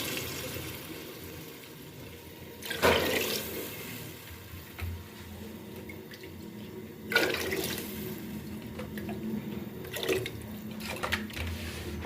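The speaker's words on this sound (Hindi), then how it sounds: "तो अब हम इसमें पानी डालते हैं।" Water is poured into a pot of peas and potatoes cooked for masala pulao, in a few short splashing pours separated by quiet kitchen pauses.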